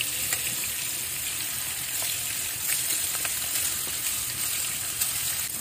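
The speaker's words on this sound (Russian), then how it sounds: "Обжарили со всех сторон." Meatballs sizzle in oil in a pan over an open fire outdoors in a village, a steady crackling fry with occasional pops and spits throughout, no voices.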